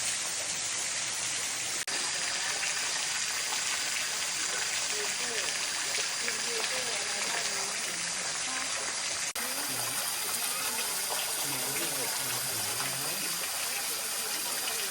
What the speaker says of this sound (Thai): จุดแรกคือน้ำตก อันนี้ระหว่างทางเดินนะคะ ก็จะมีน้ำตกจาก บนภูเขา สันเขาอย่างเงี้ย